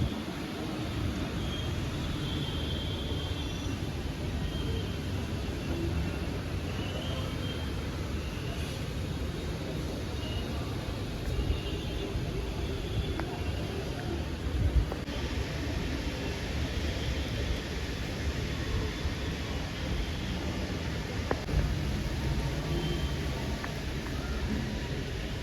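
Rain falls steadily on a rainy morning, heard from a house rooftop as an even, continuous hiss that stays at a constant level throughout, with no one speaking.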